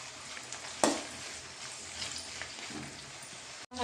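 Chopped tomato fries with ginger in a pan for a Mangalore-style fish dish, giving a soft, low sizzle with one sharp clatter near the start. The sound is faint and fairly close, and no one speaks.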